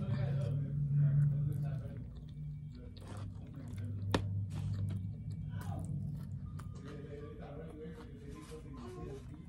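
Someone eats a McDonald's breakfast close to the microphone with soft, steady chewing and occasional crunchy bites, while talking goes on over it.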